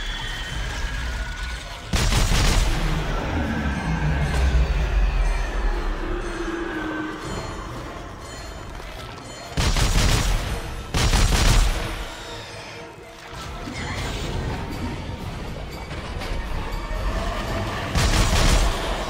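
Gunfire in the sci-fi horror shooter Dead Space 3, loud bursts of weapon fire in several clusters over a rumbling, droning game backdrop, no talking.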